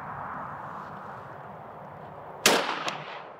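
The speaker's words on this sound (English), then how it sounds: "let's go and shoot a sporting target" A shotgun fires at a sporting clay target, with a steady outdoor background followed by one loud, sharp report near the end and a quicker second crack just after.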